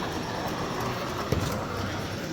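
O scale model train running back and forth on a layout at a train show, a steady close rumble of wheels and motor with a single faint click, with no one speaking.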